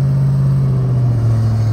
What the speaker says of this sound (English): Truck going by.